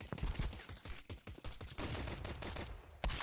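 Rapid bursts of Counter-Strike gunfire fill a professional esports match, dense and continuous, with layered shots and action sounds running throughout.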